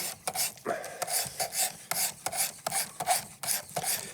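A knife blade is stroked against the abrasive of a Worksharp Precision Adjust sharpener, a close, rhythmic series of gritty rasping passes, about a dozen quick strokes with brief pauses between them and no talking.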